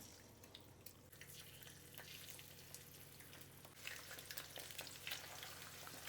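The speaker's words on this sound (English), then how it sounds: "I'm going to leave a little bit in there to fry my eggs in. I want to fry up 2 eggs." Eggs fry in leftover bacon fat in a pan, giving a steady close sizzle with faint crackles throughout, a little brighter and busier toward the end, with no talking.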